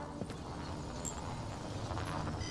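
Horse hooves clip-clop steadily in a detective video game, against a dense background of ambient noise and other game sounds, with no talking.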